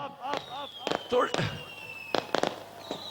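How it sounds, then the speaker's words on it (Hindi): Fireworks crackle and pop in sharp bursts at a political rally in Pakistan, several loud cracks in quick succession with a whistling rocket trail, while someone speaks at the start. "आतिशबाजी का भी"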